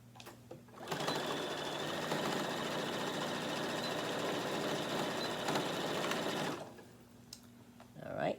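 A sewing machine stitches the handles of a tote bag, a fast steady mechanical whirr running for several seconds at close range before stopping, with brief handling noises around it.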